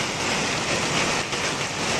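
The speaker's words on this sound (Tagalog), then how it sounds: "Natrap tayo ng ulan." Heavy rain pouring down in a steady, dense hiss, loud and continuous with no breaks and no voices.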